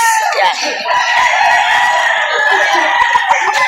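Chickens cluck and a rooster crows loudly close by amid a busy crowd at a livestock auction market in Padre Garcia, with people talking in the background.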